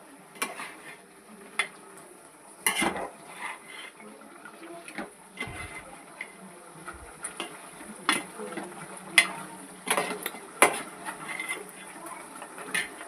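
Chili powder and coriander powder being stirred into chicken curry in a pot, with scattered scraping and clinking of a spoon against the pan over a soft sizzle, faint and irregular throughout.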